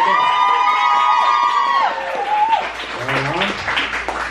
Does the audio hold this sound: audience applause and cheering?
yes